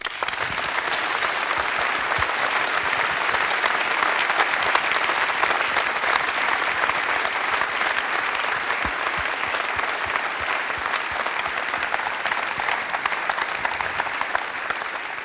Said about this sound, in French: Je vous propose de tous les applaudir.